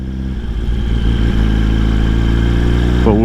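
A motorcycle engine revs hard and steady while a rider performs a rolling burnout, a loud continuous roar that rises sharply in pitch near the end, with no talking.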